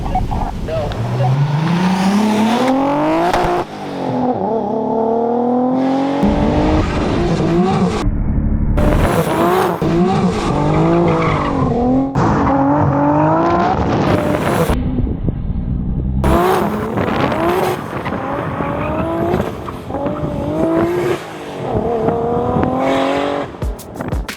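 A Nissan R32 Skyline GTR slides with tires squealing and its engine revving in rising and falling sweeps, loud and close, continuing through most of the stretch while people talk over it.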